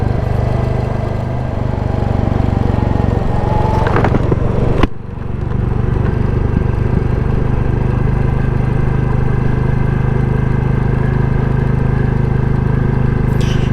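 A 2022 Royal Enfield Classic 350 single-cylinder motorcycle is ridden along a rough country road in second gear, with a steady, loud engine drone and wind rumble. A brief dip occurs midway before the engine sound continues unbroken.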